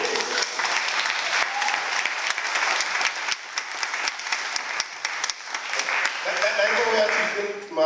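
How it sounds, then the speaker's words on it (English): A live crowd at a London spoken-word event claps steadily and loudly for several seconds, dense overlapping hand claps with scattered voices and a hint of talk toward the end. "Go give police a round of applause for that."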